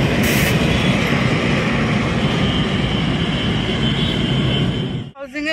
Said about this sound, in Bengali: এটা গুডস ট্রেন।